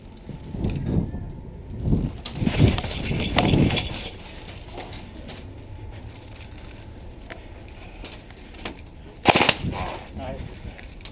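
Airsoft BBs fired from guns nearby strike and rattle through windows in bursts of sharp clatter and ticks, loud clusters early and again near the end, with quieter room ambience between.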